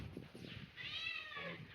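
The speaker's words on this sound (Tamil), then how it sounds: "பூனை வந்து அதோட குடும்பத்தோட வந்துச்சு, என்னை பார்த்து பார்த்து கத்திக்கிட்டே இருக்கு" A cat at an ancient temple meows with a clear, drawn-out call near the middle of the clip, then a shorter cry, over faint background noise.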